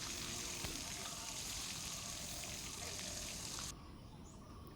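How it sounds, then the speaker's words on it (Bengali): Fish pieces frying in hot mustard oil, a steady broadband sizzle that runs continuously and drops sharply quieter near the end, with faint background sounds behind. "দেখো সবগুলো মাছ আমার ভাজা হয়ে গেছে"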